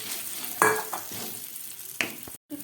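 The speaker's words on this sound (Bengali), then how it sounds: "এবার দিয়ে দিচ্ছি পেস্ট করে রাখা মটরশুঁটি।" Green pea paste mixed with ginger and green chilli is stirred in a hot pan, giving soft sizzling with a few scraping strokes of a spatula and a brief clink, close and quiet.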